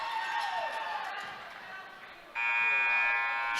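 A basketball buzzer sounds at the end of the first quarter of a boys' high school game, Deer Lodge at Loyola, as a steady loud electronic tone that kicks in partway through, with an earlier tone fading and a commentator talking over it.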